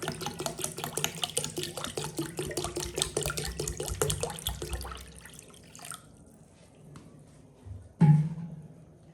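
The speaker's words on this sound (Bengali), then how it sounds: "এবার দিচ্ছি জল" Water poured into a bowl while making fuchka, a steady close trickle and splash that tapers off midway, followed by faint drips and a brief louder clunk near the end.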